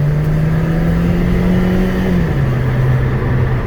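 A Chevy Sonic LTZ with a 1.4 turbo engine accelerates, heard from inside as a steady droning engine note that climbs, then drops after a gear change and climbs again, with road noise under it.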